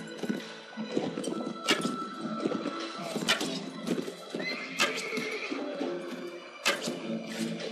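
A horse in the video game Mount & Blade neighs repeatedly amid clip-clopping hooves and battle noise, loud and close, with no talk.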